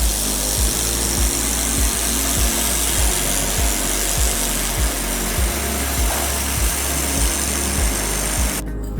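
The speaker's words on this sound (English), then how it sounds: "Welding thicker stainless steel three-way pipes is very easy." An air-cooled laser welding machine joins a thick stainless steel three-way pipe, giving a loud, steady broadband hiss with regular low pulsing clicks throughout, continuous and close with no talk.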